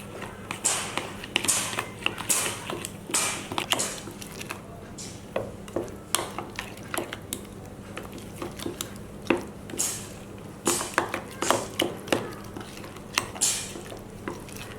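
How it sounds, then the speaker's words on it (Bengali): Coriander and cumin powder being mixed by hand into yogurt for a doi mogoj brain curry: close, repeated wet squishing and soft scraping in an irregular rhythm, with no talking. "এখন আমি সবগুলো উপকরণ দইয়ের সঙ্গে মেখে নেব"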